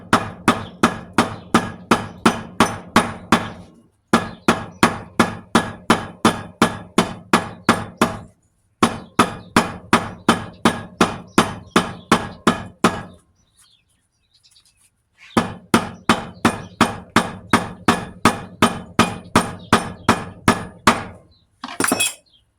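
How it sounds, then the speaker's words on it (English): A hammer strikes thick rubber-insulated copper wire in rapid, evenly spaced bursts of sharp metallic blows. Runs of a dozen or so hits are separated by short pauses and one longer quiet gap, loud and close, with no talking. "I'm gonna use my hammer and I'm just gonna smash the copper out of this"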